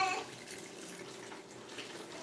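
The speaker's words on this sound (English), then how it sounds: "So I'm pouring that" Water is poured into a cooking pot over chicken for a Trinidad-style stew, a soft, steady splashing and trickle heard close by and fairly faint throughout.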